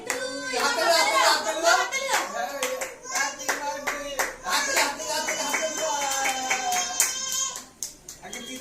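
Relatives clap steadily at a small birthday party at home, a dense run of handclaps mixed with excited voices and someone talking throughout.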